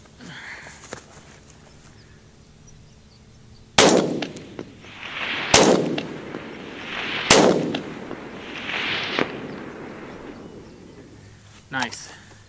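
A 6.5 Grendel rifle fired in quick succession on an outdoor long-range course, four loud sharp reports a second or two apart, each followed by a fading echo, with brief speech nearby.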